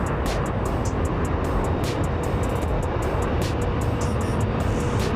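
An Edelweiss Airbus A340-300 airliner takes off with a loud, steady broadband engine roar that holds constant, while sharp crackling clicks sound over it.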